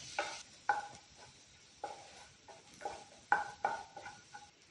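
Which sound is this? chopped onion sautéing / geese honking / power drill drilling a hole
chopped onion sautéing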